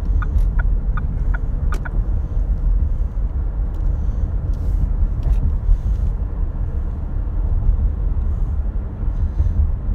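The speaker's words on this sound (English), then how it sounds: "What are you trying to put a fire out with your ice cream truck?" A Blue Bell ice cream truck rumbles past at speed, a loud, broad road roar that holds steady throughout with a few sharp clicks and bumps near the start.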